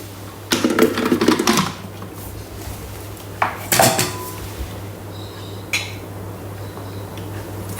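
Zucchini being sliced with a Thermomix cutter comes through as a few bursts of rattling, clattering mechanical cutting, separated by quieter gaps and a steady low hum.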